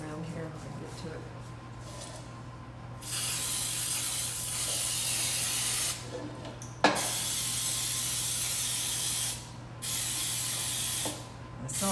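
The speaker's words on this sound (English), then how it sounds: "I'll use my baking spray" Baking spray hisses into a cake pan while an angel food cake is being prepared, coming as three long, close, steady bursts with short pauses between them over a low background hum.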